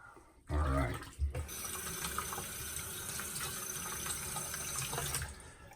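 Water running from a tap to rinse a vintage Gillette Toggle safety razor. It gushes on in a loud burst, pauses briefly, then flows steadily into a sink before easing off.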